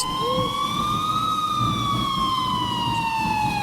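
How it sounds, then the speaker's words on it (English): A steady, wailing police siren rises and falls slowly in pitch, sounding somewhat distant over a constant background rumble of traffic. "I finally heard sirens in the distance"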